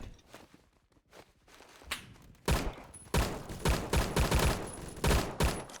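An AN-94 assault rifle fires in the Roblox shooter Phantom Forces, sharp cracking shots that build into quick repeated bursts, moderately loud and growing denser toward the end, with no voice over them.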